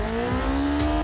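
A K-car style engine in the BeamNG driving game idles without its supercharger, a loud steady rumbling drone with a low buzzing tone and faint periodic pulses throughout.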